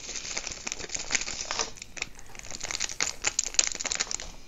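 Tiny plastic diamond painting drills pour and patter rapidly into a container, a dense crisp rattling close up.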